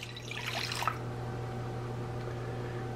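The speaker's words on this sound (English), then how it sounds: "Now I'm going to add the water" Water poured into a large bowl of egg yolks for a Depression-era wind cake, a brief splashing pour in the first second over a steady background hum, then quiet.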